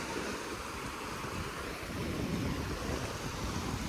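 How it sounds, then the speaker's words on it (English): Huge ocean waves at high tide under a full moon roar in a constant, dense wash, mixed with wind buffeting the microphone. "At high tide, guys, the waves are literally huge when it's a full moon"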